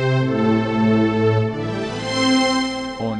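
A preset tone from the Sytrus synthesizer in FL Studio plays alone as a sustained, harmonically rich synth sound whose pitch and timbre slowly sweep and waver over a few seconds.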